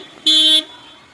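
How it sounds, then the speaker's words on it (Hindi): A school van crossing a flooded road gives one short, loud horn toot lasting about a third of a second, then fades back to quiet background. "एक गाड़ी और जा रही देख पा रहे हैं"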